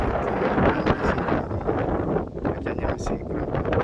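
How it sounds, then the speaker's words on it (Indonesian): Wind blows across Pasir Panjang beach in Maluku Tenggara, Indonesia, buffeting the microphone in a steady, rough rumble that runs throughout, with a person talking over it. "biasanya kalau di sini karena lagi ada angin juga ya"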